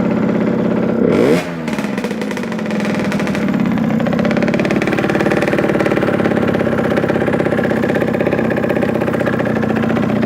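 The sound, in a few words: engine idling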